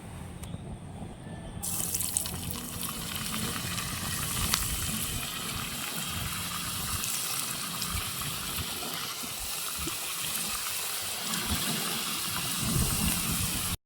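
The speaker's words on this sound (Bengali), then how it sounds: "এখন আমি তেলের মধ্যে আলু দেবো" Potato strips for french fries deep frying in hot white oil, a dense, steady sizzling hiss that flares up as they go in and continues bubbling throughout.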